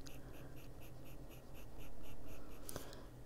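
Rapid, rhythmic scratching of a charcoal-based pencil on paper while coloring, a dry raspy stroke repeating in quick strokes, close and steady, with no talking.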